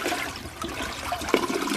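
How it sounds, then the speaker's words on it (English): A toilet flushing close by with a steady rushing, gurgling swirl of water throughout, briefly swelling in the middle and carrying on alone. "or gets flushed down here"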